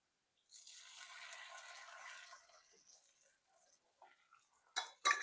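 French toast mixture is stirred in a dish, a soft scraping and clinking of utensil against the dish for a few seconds, followed by a couple of sharper clinks.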